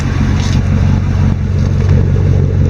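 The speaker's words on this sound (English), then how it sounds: "exhaust pipe coming from my favorite muffler of all time, the 23-inch long cherry bomb glass pack" A 2001 Ford F-150 pickup with a 4.6 V8 and a 23-inch cherry bomb glass pack muffler on stock cats, its engine revving in a loud, steady, deep rumble that holds close throughout.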